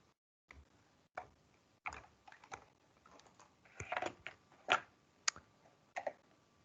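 Computer keyboard typing, scattered keystrokes in short irregular bursts separated by pauses, fairly close and quiet, with no talking.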